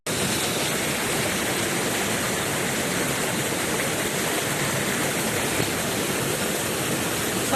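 River water rushes steadily at a rural farm stream, a dense, loud, unbroken hiss that stays close throughout with no voices.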